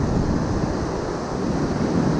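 Ocean surf breaking on a rocky shore at Nature's Valley during a fishing outing, a steady loud wash of waves mixed with wind buffeting the microphone, with no voices.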